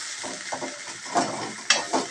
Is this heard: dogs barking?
no